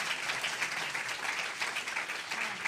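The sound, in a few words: congregation applause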